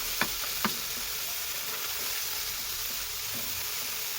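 Turmeric, chili and cumin sizzle in a hot pan for a rui fish and radish curry, a steady close frying hiss broken by two sharp pops near the start.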